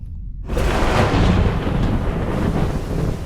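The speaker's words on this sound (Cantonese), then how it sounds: "暴風雨喺邊個方向吹過嚟㗎？" A storm on a seashore, where a deep, loud rumble of thunder and wind suddenly bursts from near silence and then rolls on steadily, filling the whole scene.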